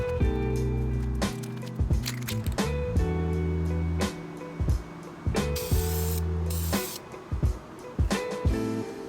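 Spray can misting paint onto a car intercooler, close hissing bursts of varying length separated by brief pauses and soft clicks of the nozzle, with background music.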